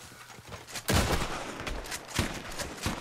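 A .22 rifle fires several rapid shots in the video game Red Dead Online, with quick cracks that come in short bursts over a low, steady game background. The shots sound moderately loud and slightly distant, and no one speaks.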